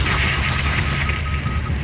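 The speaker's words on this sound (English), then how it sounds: "Gunner, drop a missile on that SAM site." Missile strike on a SAM site in Call of Duty Modern Warfare 3, a loud, sustained rumbling boom filling the whole moment with heavy low-end roar.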